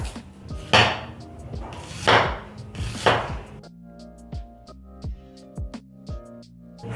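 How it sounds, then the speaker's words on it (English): Knife chopping an onion on a cutting board, first a few heavy slicing strokes and then a run of sharp, evenly spaced knocks, close and distinct, with no talking over it. "chop my onion."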